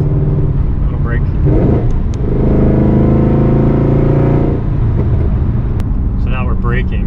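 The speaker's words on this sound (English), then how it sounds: "So then rev match going from fifth to fourth." A Chevy SS V8 with a Xineering downshift blip module hums steadily on the road while downshifting from fifth to fourth, with a slight rise in engine pitch. A person talks over the engine throughout.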